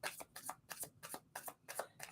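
Tarot cards shuffled by hand in a quiet room, a run of about eight crisp riffling bursts in a steady rhythm, close and fairly soft, with no voices.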